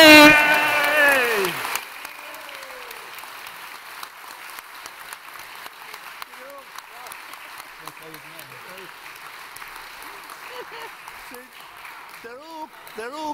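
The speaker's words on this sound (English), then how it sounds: "They're all clapping" An audience at a reunion of a British children's TV show claps loudly for about two seconds, then the applause drops away and quieter talk and vocal sounds continue.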